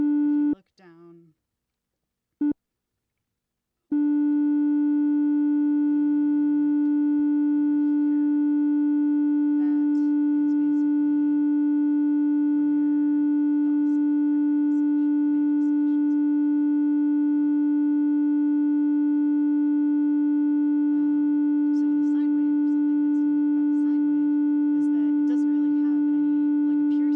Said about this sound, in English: That's why a sine wave sounds kind of like just very basic.